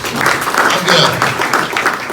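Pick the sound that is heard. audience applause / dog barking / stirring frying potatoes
audience applause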